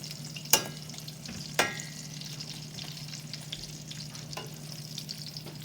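Eggplant fries in oil in a pan with a steady, close sizzle and crackle, broken early by two sharp clacks of a utensil against the pan.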